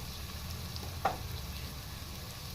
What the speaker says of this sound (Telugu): వేగుతుంది కదా చూసారా